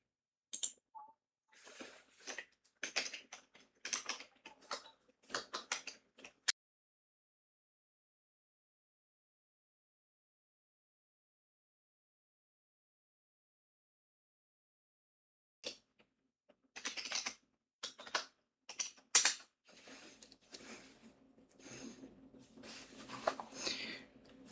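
Keystrokes on a computer keyboard typing a prompt into a chatbot, two bursts of quick, close clicks separated by about nine seconds of silence, with no talking.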